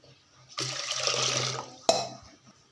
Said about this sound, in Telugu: ఇప్పుడు వాటర్ అయితే వేసుకుందాము